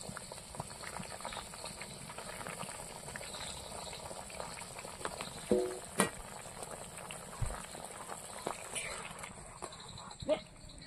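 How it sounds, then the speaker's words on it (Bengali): Curry bubbling in a pot while being cooked village-style with squash and rohu fish, a steady soft boil with a few louder pops and clinks, faint and continuous. "এবার তরকারিটা ফুটিয়ে নেব"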